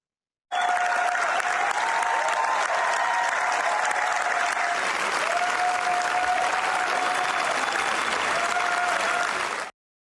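Sustained applause from an audience after a film premiere screening, steady and loud for about nine seconds with no speech over it.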